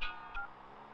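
Telephone keypad tones from a phone being dialed, two or three short beeps close together, with no talking.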